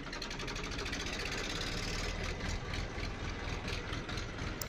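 A farm tractor's engine runs steadily and loudly throughout, a dense continuous idle-like drone with a faint rhythmic knock, alone with no voices.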